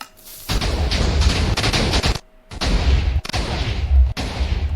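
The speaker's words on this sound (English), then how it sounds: "So I'm gonna fire it and hope that it works" Heavy weapon fire from a nuke launcher in a video game, a loud sustained roar of blasts and booms with a brief gap midway, then further thumping bursts.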